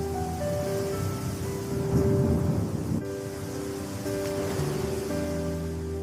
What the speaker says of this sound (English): I think the rain is slowing.